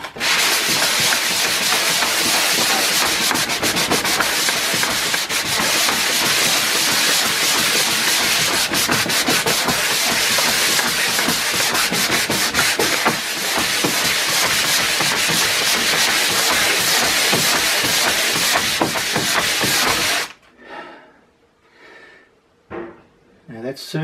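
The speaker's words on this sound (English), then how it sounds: "What I'm going to do now is just sand over this whole area, just a little bit of wood, a block," A drywall patch over a doorknob hole is sanded with sandpaper on a wood block, giving a steady, close, loud rasping rub that runs without pause for about twenty seconds, then stops abruptly, leaving a few faint noises.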